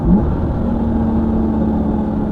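A Porsche sports car engine rumbles steadily at close range while accelerating, a continuous mid-pitched drone with a slight rise at the start and no voices.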